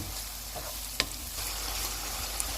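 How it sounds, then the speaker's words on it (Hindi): Salt, white cumin, dried coriander and soy sauce fry in a pan for white sauce pasta, a steady close sizzle with one sharp clink about a second in. "अब इन्हें हम थोड़ी देर तक भूनेंगे।"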